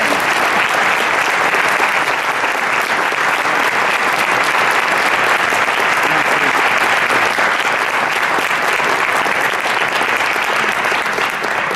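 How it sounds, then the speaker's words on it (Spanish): Sustained, dense applause from an audience at a book presentation, loud and steady throughout with no talking over it. "pido un aplauso para él"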